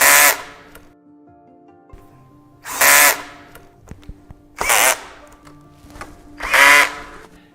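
Power drill driving screws to fasten the lifting columns of a FlexiSpot standing desk, heard as four loud separate bursts of a few tenths of a second each with quiet pauses between.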